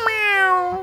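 A single cat gives a clear, close meow with a drawn-out, slightly falling tone, less than a second long.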